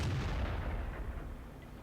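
An artillery shot from a tank destroyer fires in World of Tanks, a single heavy booming blast with a long decaying low rumble, loud and close, no voices.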